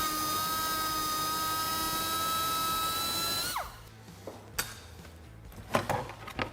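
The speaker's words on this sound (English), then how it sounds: "we're gonna take our Dremel and we're just gonna open this groove up right here" A Dremel rotary tool opens a groove in the dash of a Polaris Ranger 1000 cab: a loud, close, high whine runs steadily, then winds down, followed by scattered clicks and light handling knocks.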